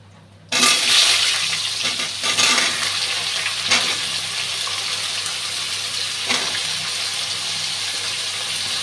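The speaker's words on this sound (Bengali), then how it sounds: "এখন বেগুনটা ভেজে নেব।" Brinjal dropped into hot oil bursts into a loud, dense sizzle that continues steadily, with a few faint scrapes of a utensil in the pan, heard up close with no voices.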